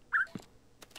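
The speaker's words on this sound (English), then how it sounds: "Get out of here, parrot." A parrot squawks in a Minecraft survival game, one short sharp call followed by fainter chirps, quiet and close.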